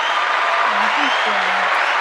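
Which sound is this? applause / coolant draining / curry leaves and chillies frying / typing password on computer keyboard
applause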